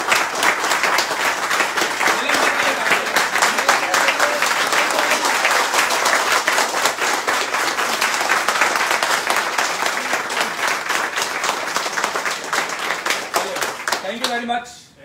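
Students break into sustained applause, a dense, steady clapping that fills the room for several seconds before fading out at the end.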